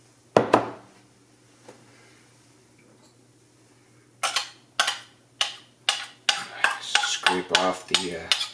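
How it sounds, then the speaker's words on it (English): Red lentil soup scraped out of a measuring cup with a utensil: two sharp clinks near the start, a quiet pause, then a quick run of repeated scraping and tapping strokes, close and fairly loud, with no talking. "Scrape off the measuring cup so we don't waste it"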